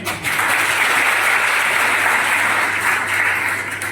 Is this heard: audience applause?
yes